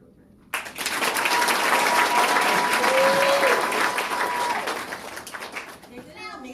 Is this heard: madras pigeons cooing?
no